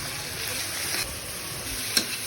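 Shrimp sizzle and crackle in a hot wok with a steady frying hiss, plus a brief scrape of stirring near the end; close and continuous.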